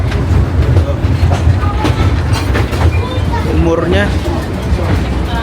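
A nearly 120-year-old train rumbles along the rails with a low steady roar and faint clacking, close by and continuous, with a few soft squeals.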